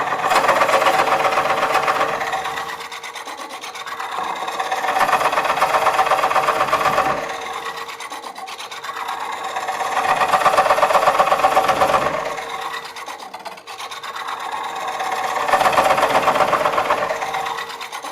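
A Woodcut Tools Bowlsaver cores a large bowl, nearly 11 inches across, from a blank spinning on a lathe. The cutting noise rises and fades in slow, regular surges of grinding and whirring, close and continuous for eighteen seconds.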